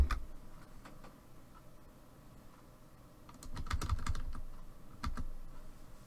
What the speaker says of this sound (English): I'll type good night